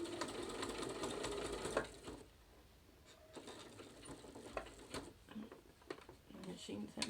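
A domestic sewing machine stitching a seam through layered fabric, a fast steady mechanical chatter for about two seconds, then quieter intermittent running with pauses and short bursts, with a person talking over parts of it.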